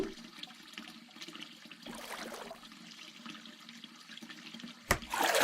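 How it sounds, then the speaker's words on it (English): Water pours and splashes into a glass aquarium tank set in a LEGO-built aquarium bed frame, a steady gushing trickle throughout with a sharper splash near the end, close and moderately loud with no talk. "Add water."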